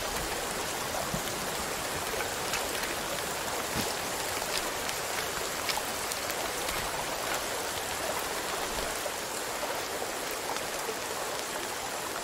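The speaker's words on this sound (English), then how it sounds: "Oh, it's raining." Steady rain falling outdoors, a dense even hiss of drops on surfaces that stays constant throughout with no talking.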